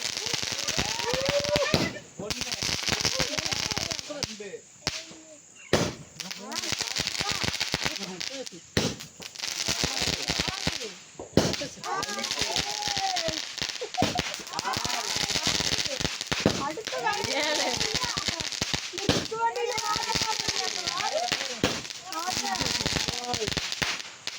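Rapid crackling bursts of firecrackers pop continuously during Diwali, dense and sharp, with people talking and exclaiming over the noise.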